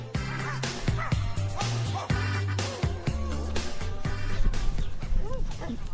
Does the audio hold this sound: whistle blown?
no